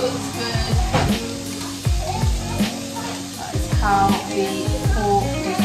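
Pork sizzles and crackles steadily in a hot pan, with utensils scraping and stirring now and then.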